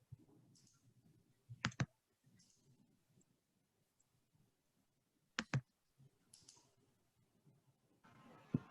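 Computer keyboards clicking as people type during an online engineering research session. Two brief clusters of clicks stand out against faint background sound, with only scattered quiet taps in between.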